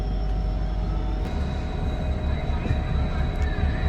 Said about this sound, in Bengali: সাঁতরাগাছি থেকে ট্রেন ছেড়ে দিয়েছে